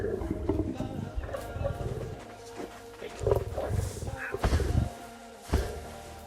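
A West African lion, an adult male at a zoo, gives low rumbling roars and grunts in a few surges, fairly distant amid background noise, with no clear speech over it.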